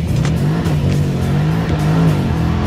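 A Jaguar XFR launches hard from a standstill, its engine revving loud and close in a sustained rising roar with slight tire scrabble.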